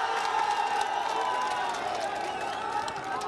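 Audience applause and cheering welcome a party candidate on stage at a Bihar election debate in Raghopur, a steady dense crowd sound of clapping and whoops throughout, with voices mixed into the noise.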